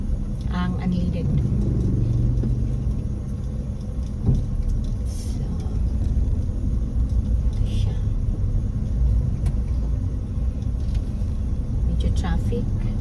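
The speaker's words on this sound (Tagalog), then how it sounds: "Traffic in this area." Road traffic moving through the area, a steady, dense low rumble of car and bus engines that continues without a break, with a few faint higher clanks over it.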